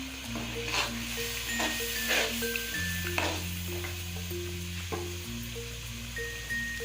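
Yogurt and chili frying in masala for mutton nihari, a soft steady hiss with occasional stirring clicks, heard beneath sustained background music with no talk.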